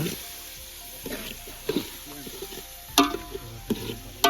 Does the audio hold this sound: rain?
no